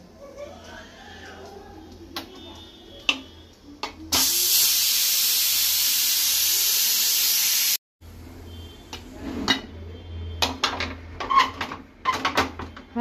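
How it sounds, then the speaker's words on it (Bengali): A pressure cooker vents steam released with a ladle while cooking chicken, a loud, steady hiss lasting several seconds and cutting off abruptly, between scattered kitchen clatter and knocks. "হাতাটা দিয়ে কুকারের গ্যাসটা বার করে দিলাম"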